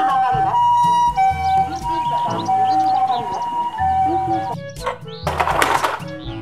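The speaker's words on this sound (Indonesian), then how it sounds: "Mobil ambulans." Toy ambulance siren wailing loudly with warbling electronic tones over a busy, music-like background, ending in a burst of harsher noise near the end.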